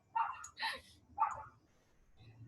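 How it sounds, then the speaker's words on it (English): Dogs barking in a home setting, three short, sharp bursts close together in the first second and a half, fairly near, followed by quieter rustling with a low hum underneath. "Sorry, my dogs are going crazy."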